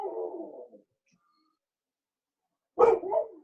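A small dog barks twice in a quiet room, one short yap at the start and another about three seconds later. Both are close and clear with silence between them.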